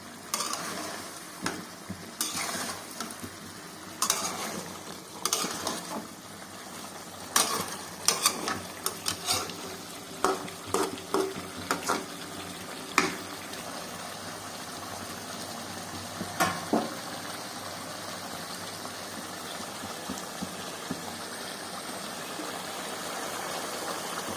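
Chicken liver frying in a pan, a low steady sizzle broken by a run of sharp scraping and clinking stirs near the start, then settling into a quieter even fry. No talking.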